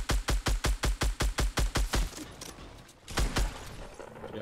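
Rapid gunfire in the video game Fortnite: about a dozen loud, evenly spaced shots in a fast burst over two seconds, a brief lull, then a second short burst of shots, with no talk.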